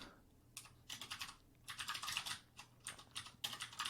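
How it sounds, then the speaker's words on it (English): Keys tapped on a computer keyboard in short clustered bursts of clicks, the WASD keys pressed one after another with brief pauses, close and fairly quiet with no talking. "the key I'm hitting on the keyboard"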